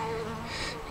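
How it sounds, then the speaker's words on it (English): A bee buzzes close by among potted garden plants, a steady near drone with a faint wavering pitch, heard alone for under a second. "You're in the wrong place, bee."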